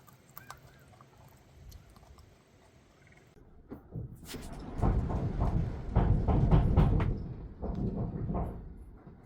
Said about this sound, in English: That's the sound of really crazy wind outside blowing against the camper.